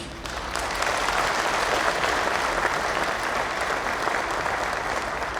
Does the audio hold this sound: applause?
yes